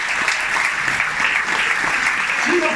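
A theatre audience applauds the actors of a comedy company at a curtain call in a Taranto theatre, a steady, dense wash of clapping with a voice speaking briefly over it.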